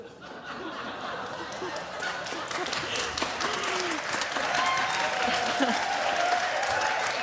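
A church congregation claps together in steady, moderately loud applause that builds slightly and continues throughout, with scattered voices and light laughter mixed into the crowd noise.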